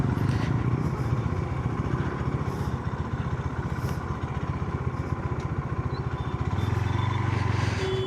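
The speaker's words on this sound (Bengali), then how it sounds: "এটা মেয়ে মানুষ বাইক চালানো শিখতেছে" A motorbike ridden by a woman who is learning to ride, its engine puttering in a steady rapid pulse at close range throughout, sometimes rising slightly.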